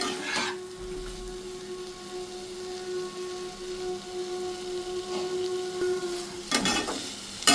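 Vegetables and fish for Bengali fish shukto sauté in a pan, a steady close sizzle and fry hiss with faint stirring scrapes and a louder clatter of utensil movement near the end, no talking.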